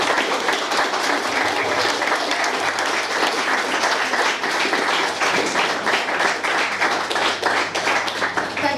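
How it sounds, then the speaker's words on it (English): An audience at a memorial fund bursary event applauds a speaker, dense sustained clapping from a sizeable crowd, loud and continuous for several seconds. "can we give her a round of applause?"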